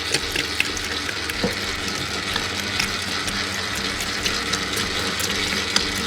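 Water poured into rye sourdough dough in a bowl, a steady loud rushing splash that stays constant throughout.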